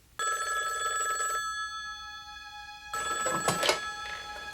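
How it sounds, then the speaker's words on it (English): A telephone bell rings twice in a loud, steady trill, with a short pause between the two rings, as an incoming call arrives in a 1980s-era Arlington setting. "3 hours later, she received an intriguing telephone call."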